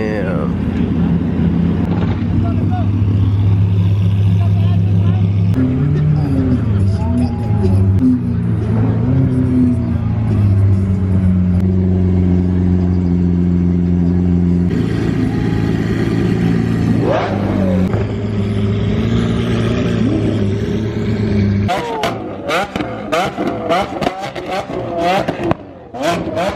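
An LS3-powered Superlite SLC supercar idles loudly and revs in several surges, the engine note rising and falling, then sharp blips near the end, with people talking now and then over it.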